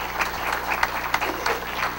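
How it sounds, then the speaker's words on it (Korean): An audience applauds at a Korean mission association event, a brief burst of dense, steady clapping from a crowd at moderate loudness. "크게 박수로"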